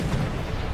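A ship's cannon in a pirate video game lets off a brief, deep boom that rumbles low and heavy for under a second.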